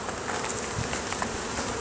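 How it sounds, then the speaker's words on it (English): Dense swarm of honey bees humming steadily around an open hive being inspected, a continuous close, even buzz with no voices over it. "There's so many bees, I can't see anything"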